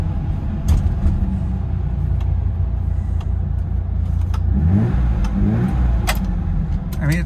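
Steady engine idle of a 1974 BMW E9 heard from inside the car, a low continuous rumble with faint ticking clicks and a brief rise in revs toward the end.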